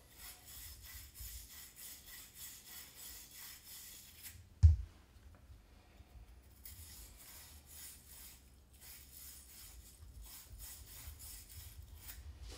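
Copper shower valve fittings and copper pipes rubbed by hand to take off the polished edges, giving soft, steady back-and-forth scraping strokes. One sharp knock breaks the rhythm partway through, then the quiet rubbing continues.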